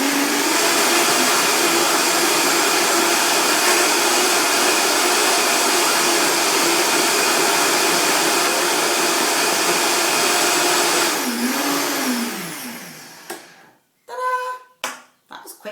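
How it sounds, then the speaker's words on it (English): A loud, continuous whirring roar of a blender making a green smoothie runs for several seconds, then winds down and cuts off, followed by a few clinks. "I'm going to put the blender on."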